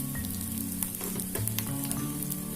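Kashmiri chilli powder sizzles in a pan over a low flame for a spicy Kerala cherry pickle, a close, crackly frying hiss with small pops and stirring scrapes and no speech.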